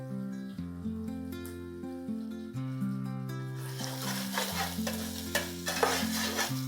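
Tomato paste sautéed and stirred in a pan, a crackling sizzle with stirring that grows louder in the second half, under background music.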